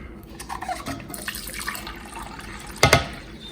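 A can of water is poured into tomato paste while making a pizza sauce, giving soft, faint liquid splashing with a brief louder burst near the end. No one speaks.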